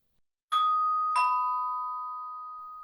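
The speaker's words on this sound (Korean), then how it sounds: "켈리는 초인종을 눌렀다." A doorbell rings with two clear electronic ding-dong chimes, the second tone lower and left to ring out and slowly fade, close and alone with no talk.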